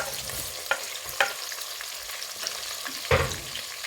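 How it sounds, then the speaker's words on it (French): Chopped onions fry for a Senegalese fish tieboudienne, a steady close sizzle in the pan with occasional scraping knocks of a spoon stirring through. "Ensuite, je rajoute des oignons découpés."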